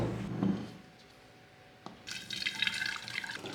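Green June plum juice being strained, liquid trickling and splashing steadily into a container, close and fairly soft, with a quieter stretch before the pouring picks up.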